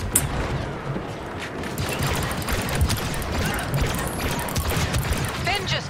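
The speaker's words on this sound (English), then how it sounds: "I'm so bad at shooting" Gunfire and blasts from shooting in the Star Wars Battlefront video game: dense, continuous rattling shots and mechanical clatter throughout, steady and fairly loud with no pauses.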